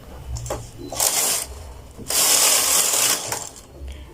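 Knitting machine carriage swept across one row with a punch card loaded, giving two loud, broad mechanical rushes with clicks and rattles between them, close by and with no talk.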